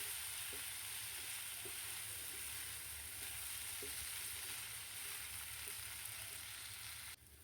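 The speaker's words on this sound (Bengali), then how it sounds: "চাল দিয়ে নেড়ে চেড়ে দিচ্ছি। ভালো করে ভেজে নিতে হবে চালকে, পোলাওয়ের চালের মতো করে।" Binni (sticky) rice frying in a pan for pulao, a steady broadband sizzle with faint scrapes of stirring at intervals, continuous and even throughout with no voices.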